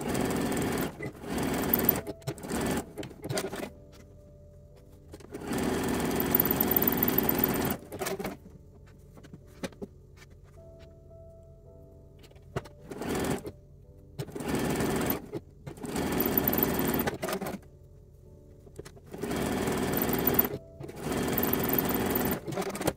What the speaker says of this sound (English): we're gonna stitch this together with a 3/8 inch seam allowance